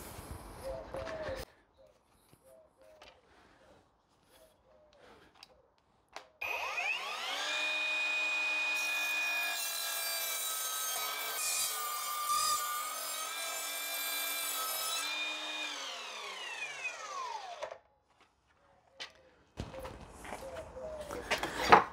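An Evolution 36V cordless sliding double-bevel mitre saw spins up and cuts through hotel skirting board with screws and nails in the end. The motor whine is loud and sustained for about ten seconds, framed by quieter handling sounds and brief speech.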